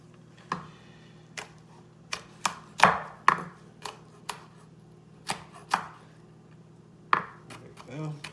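Knife chopping onion-like vegetables for guacamole on a cutting board, sharp close taps in an irregular rhythm, about a dozen strikes with short pauses, with faint room hum underneath.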